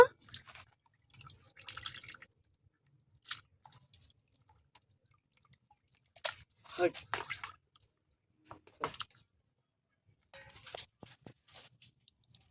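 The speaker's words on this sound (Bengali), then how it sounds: "ঝুড়িতে দিয়ে দেবো ভালো করে জল ঝরিয়ে নেওয়ার জন্য" Water drains from washed mutton pieces sitting in a basket, falling in scattered drips and short trickling splashes separated by quiet gaps.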